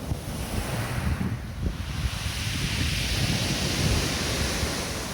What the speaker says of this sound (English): There's something magical about hearing waves crash onto the seashore.